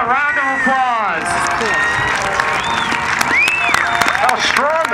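Air show crowd applause and scattered cheering rise under a voice talking loudly over it, with whistle-like tones sweeping through.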